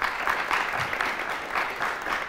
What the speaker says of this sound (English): How about a nice round of applause for the Hononegah Indians?